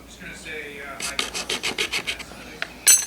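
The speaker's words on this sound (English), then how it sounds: "I could use sandpaper on a stick and help get the fur" Sandpaper wrapped on a stick rasps against wood in a quick series of about eight evenly spaced, close scraping strokes, loud and alone, followed by a sharper final scrape.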